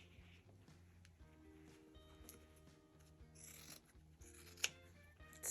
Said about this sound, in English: I'm going to cut the corners off this.